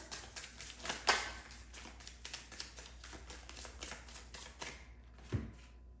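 Tarot cards being shuffled and drawn by hand: soft, quiet riffling and papery taps close by, with one sharper flick near the start and a gentle thud toward the end.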